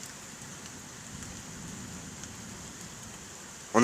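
Heavy rain from an electrical thunderstorm in Carpentras, France, falls in a steady, continuous wash of noise, with a sudden louder burst of sound cutting in right at the end.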